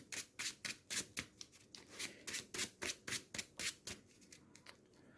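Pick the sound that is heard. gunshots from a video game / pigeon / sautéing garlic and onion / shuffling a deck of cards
shuffling a deck of cards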